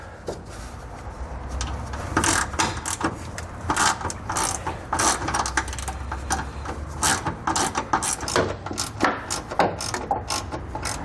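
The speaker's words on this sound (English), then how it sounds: "We'll remove these using the same 13mm socket as before" Ratchet with an adjustable head and a 13mm socket turning heat shield bolts under a 2021 GMC Sierra, rapid close clicking in repeated bursts with short pauses between strokes.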